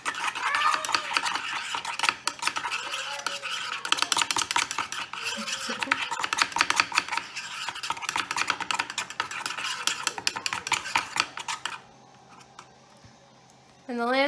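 Paint stirred and mixed for shaving cream painting, a busy close clatter and scraping that runs for most of the clip before a quieter stretch, with a voice talking over it.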